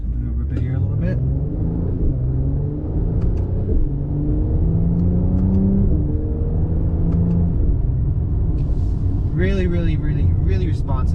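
A 2020 Mercedes-Benz C43 AMG accelerating hard, its engine rumbling and rising through several gear changes with sharp pitch steps, heard from inside the car under someone talking.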